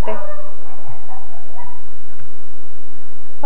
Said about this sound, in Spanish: Ok, breve pausa por la interrupción de mis perros.